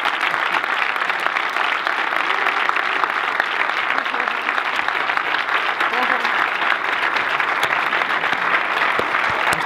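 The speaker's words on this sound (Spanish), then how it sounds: "Un fuerte aplauso para Dani, un fuerte aplauso para Mar." A crowd applauding Dani and Mar gives sustained, dense clapping that holds evenly for the whole stretch, with no breaks and no clear voices above it.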